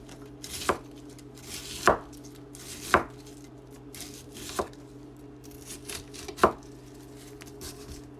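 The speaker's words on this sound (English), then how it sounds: "Take your head of cabbage and cut it into fourths, and you'll have a pretty consistent cut." A knife chopping a head of cabbage into quarters for keto coleslaw, with about six firm, evenly spaced thuds on a board over a faint steady hum.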